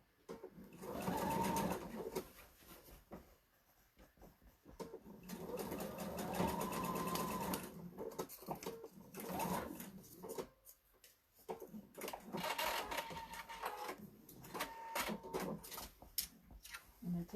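Sewing machine stitching a thick pillowcase seam, running in several long stretches of rapid needle chatter and motor whir, close up, with short pauses between runs.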